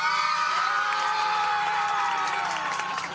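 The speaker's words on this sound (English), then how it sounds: "Across the street, cheering," Supporters gathered outside a courthouse after a mistrial cheer and shout loudly in a dense, continuous roar of many voices with whoops, sustained throughout and fading slightly at the end.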